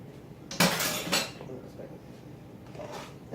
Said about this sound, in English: we're just going to stir all that in